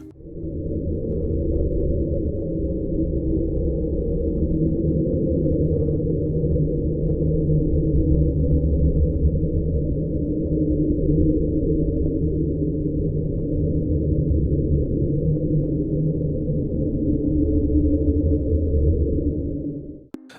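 A steady, continuous low rumble drones on for the whole stretch, deep and muffled underwater noise picked up by a hydrophone, the unexplained sound known as Slow Down, fading out abruptly at the end.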